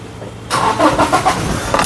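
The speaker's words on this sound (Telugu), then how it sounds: "సింగిల్ సెల్ఫ్లో కార్ స్టార్ట్ అవుతుంది" A Toyota Innova Crysta 2.4 diesel from 2017 starts on the first crank, a brief starter whir catching straight into a loud, close diesel idle that settles and continues steadily.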